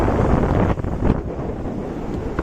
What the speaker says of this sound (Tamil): காற்று சும்மா சூப்பராக அடிக்குதுங்க